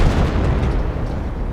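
Artillery barrage shells pound down in Company of Heroes, a dense, loud rumbling wash of overlapping booms and blasts filling the whole moment without letup.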